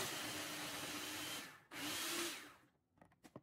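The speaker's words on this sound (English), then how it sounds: "Then we'll blend it up until it's finely chopped, stopping occasionally to scrape down the sides." A blender purees garlic, lemon juice and salt for toum, whirring loudly and steadily in two bursts with a short pause between them, then stopping, followed by a few faint knocks.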